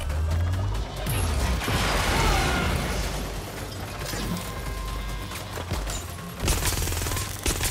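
Rapid gunfire with heavy recoil from a weapon in the video game Watch Dogs Legion, a dense continuous burst of shots and mechanical clatter, loud and close, with a fresh burst near the end.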